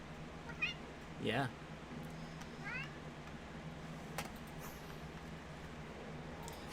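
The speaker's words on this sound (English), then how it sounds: "For those of you who may not have met my cat" A pet cat meows on a desk, one short rising cry near the start followed by a louder, longer meow a moment later, close by, with a person briefly speaking and faint background hum.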